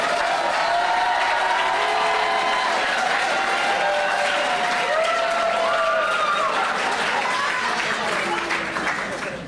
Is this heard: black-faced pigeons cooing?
no